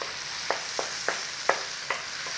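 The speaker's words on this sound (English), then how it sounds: "if you like mushy tomatoes, cook them as long as you like" Tomatoes softening in a hot pan, a constant close sizzle with a few soft periodic scrapes and taps of a utensil moving them around.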